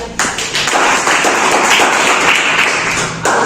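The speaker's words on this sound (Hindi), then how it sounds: "तालियां।" Loud applause from a group, dense clapping that starts abruptly, holds steady for a few seconds, then thins out.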